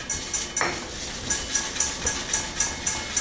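Spoon scraping and clinking in a bowl while oregano and cumin are mixed together for a Peruvian chicken rub, a steady series of light taps and stirring scrapes about every third of a second.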